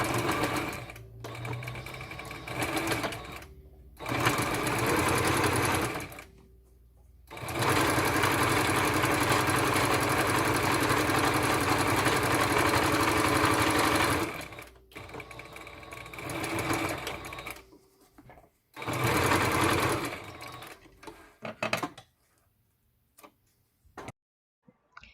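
A sewing machine stitches a pleated face mask in loud, close bursts of rapid ticking whir, with one long continuous run and several shorter ones separated by quiet pauses.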